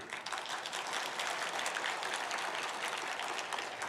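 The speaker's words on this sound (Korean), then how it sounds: "박수." A church congregation at a Sunday service breaks into steady, dense applause, many hands clapping together in a continuous wash that holds at an even, moderately distant level throughout.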